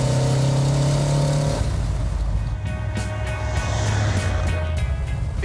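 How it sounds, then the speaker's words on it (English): A 1970 Dodge Challenger with a 440 Six Pack V8 and 4-speed manual pulls steadily in third gear, its deep engine drone loud and continuous from inside the car. "This is a 3rd gear pull."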